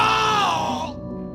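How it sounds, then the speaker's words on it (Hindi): A strange, distorted scream sound effect in a horror narration about black magic wails loudly for just over a second, sliding downward in pitch before trailing off into a low hum. "लेकिन अगले ही लम्हे एक अजीब सा चीखने की आवाज आई"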